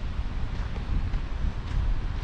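Strong wind buffets the microphone in the Gabral valley of Swat, Pakistan, a steady low rumbling roar with gusty fluctuations and no voices.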